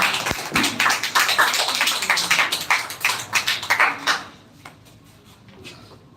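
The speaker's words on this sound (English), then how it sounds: "So please welcome with a huge round of clap, Miss Ragini." Audience clapping at a school grand finale event, a dense burst of many hands that fades after about four seconds into a few scattered claps.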